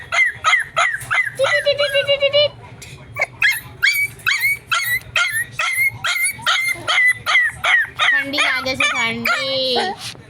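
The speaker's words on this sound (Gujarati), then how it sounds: "મારા કૂતરા" Dogs bark in rapid, repeated yips and let out high whimpers and whines in a garden, loud and close, with a voice talking in between.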